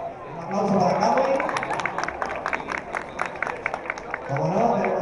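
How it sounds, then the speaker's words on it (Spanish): Crowd applause for a cosplay guest at a Chibi Japan Weekend convention talk, a steady wash of clapping and cheering heard under a presenter's amplified voice through most of the clip. "Un aplauso para Cabo."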